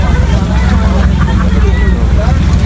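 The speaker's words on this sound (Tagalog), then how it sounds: "Ang daming bangka." Boat engines rumble low and steadily beneath a wash of wind and busy crowd chatter on the water off a beach in Nasugbu, Batangas.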